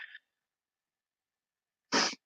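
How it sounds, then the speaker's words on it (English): A single sharp, loud sneeze close by, preceded by a brief faint sound and a stretch of silence. "I'm gonna sneeze."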